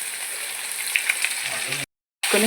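Capsicum pieces tossed into a frying egg curry: a steady, close sizzle of hot oil runs on, breaks off briefly in a silent gap, then resumes with a fresh burst of hissing.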